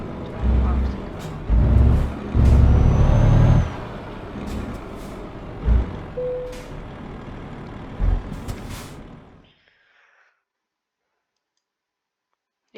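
A truck in a trucking video game is parked: engine rumble, clicks and an air-brake hiss come in short bursts, then cut to silence, with someone talking over parts of it.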